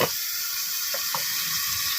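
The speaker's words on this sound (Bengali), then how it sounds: "পটলের চারিপাশটা আমি ভালো করে নাড়াচাড়া করে নিয়ে বেশ লাল লাল করে ভেজে নেব" Pointed gourd frying in hot oil in a pan, a dense continuous sizzle heard close and loud, with a couple of faint stirring taps and no talking.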